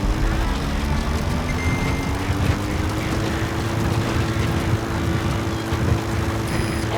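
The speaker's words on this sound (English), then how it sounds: "A support helicopter requested." Steady support helicopter from Metal Gear Solid V: The Phantom Pain, a continuous loud rotor and engine drone with a faintly rising hum, sustained throughout without a break.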